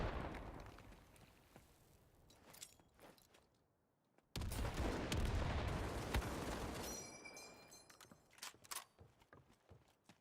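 Busy gunfire crackles through a team shooter match on the Manorhouse map, with a sudden loud grenade blast midway that rumbles for a few seconds, then scattered shots and clatter afterward, with no voices.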